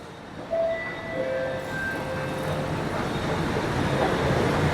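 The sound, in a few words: metro train at a Chennai metro station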